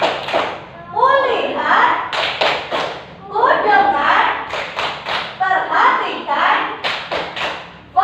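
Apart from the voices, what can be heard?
class doing a rhythmic focus clap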